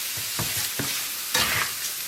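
Ragu alla bolognese sizzling steadily in a pan, a continuous frying hiss with a few soft stirring scrapes and one brief louder surge, close and moderately loud, with no voices.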